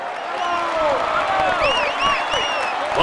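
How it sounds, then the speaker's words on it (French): A roadside crowd at the Champs-Élysées stage finish of the 2014 Tour de France applauds the stage winner: continuous clapping and cheering with shrill whistles and horn-like calls, and voices mixed in. "Applaudissez-le."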